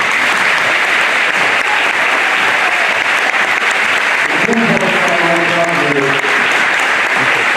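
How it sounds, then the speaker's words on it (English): A crowd applauds steadily at an NJROTC change of command ceremony held in a school cafeteria, with dense, loud clapping throughout and a few voices rising over it near the end. "Give them a round of applause, please."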